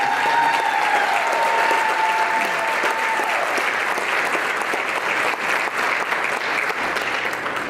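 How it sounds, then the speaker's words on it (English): Applause from the audience at a Dancing with the Stars charity show in Piqua fills the room, steady dense clapping sustained throughout, loud and close, with a brief whistle at the start. "So please, a big round of applause."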